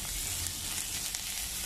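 Onions with salt frying in a pan for Kerala prawn curry, a dense steady sizzle filling the whole stretch, close and even, with faint stirring scrapes underneath.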